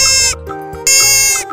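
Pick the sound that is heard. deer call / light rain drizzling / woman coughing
deer call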